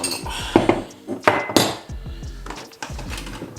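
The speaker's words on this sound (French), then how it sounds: "je vais vider le lave-vaisselle déjà" Dishes, pots and utensils clatter and clink as they are unloaded from a dishwasher, lifted out and set down, with a few sharp knocks in an irregular rhythm.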